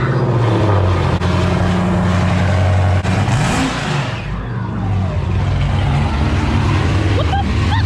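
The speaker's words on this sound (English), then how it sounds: "Now, I will give y'all a cold start right now. Rev it a couple times" A Dodge Challenger Scat Pack with JBA long-tube headers and a straight-pipe exhaust fires up from a cold start, filling the space with a loud, raw roar and a rising rev before settling into a heavy, rumbling idle up close.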